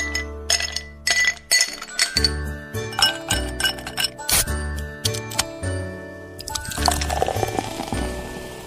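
Ice cubes clink against a glass in short, bright taps, with liquid pouring and trickling in, set over a steady musical backing.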